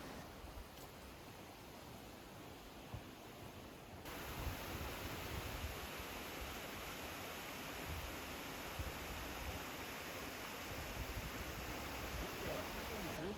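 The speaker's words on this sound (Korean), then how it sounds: "해안선을 따라 여유있게 파도 소리 들으며 걸어가 보도록 할게요." Surf washing along a coastal trekking path in a continuous broadband rush that grows louder after a few seconds and then holds steady, with no voices.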